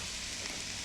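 Food sizzling steadily in a frying pan set to about 250 degrees, with soy sauce added while it is broken up, a close, even hiss throughout.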